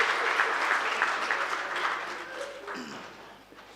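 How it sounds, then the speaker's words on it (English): Audience at a government engagement gives a round of applause, a dense patter of clapping from many hands that fades out toward the end. "our media deserves a round of applause."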